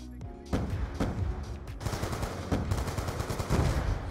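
Gunfire in the video game Call of Duty Black Ops 2 rattles in rapid automatic bursts, sharp and steady for several seconds after a brief quiet start, moderately loud with little talk.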